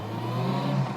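A Honda S600 coupe's small engine hums and rises briefly on the throttle, a steady, close, droning note heard from inside the car with no talk.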